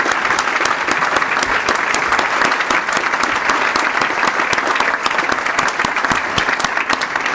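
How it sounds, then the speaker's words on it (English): Sustained applause from a luncheon audience at a police awards ceremony honoring award recipients, dense even clapping at steady volume throughout with no talk. "Now please join me in a round of applause for all of our award recipients this afternoon."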